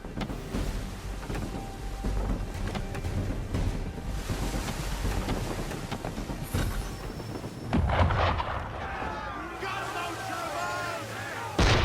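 Ship cannons fire in Assassin's Creed 3, booming blasts and rumbling impacts over sea and weather ambience, with a louder burst near the end.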